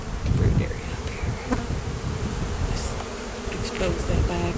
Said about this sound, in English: All the bees.